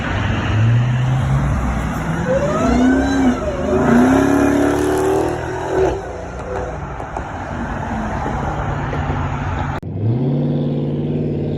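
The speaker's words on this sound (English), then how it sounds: "Hemi growl." A Hemi V8 engine revs and growls loudly up close, its pitch climbing and falling through several throttle blips before a brief cut and a fresh rev near the end.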